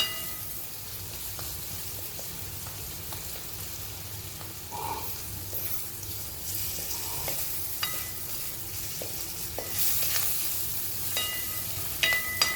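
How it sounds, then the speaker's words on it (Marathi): Sliced onion sizzles and fries in a pan over a gas flame, a steady soft crackle with occasional stirring scrapes, fairly quiet and continuous. "साधारण 3 ते 4 ते 5 मिनटं आपल्याला हा कांदा भाजण्यासाठी लागणार आहे"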